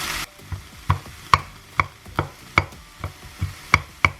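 Corn and jalapenos cooking in a pan, with about ten sharp, evenly spaced knocks and scrapes of a utensil stirring against the pan over a faint sizzle, close and fairly loud, no voices.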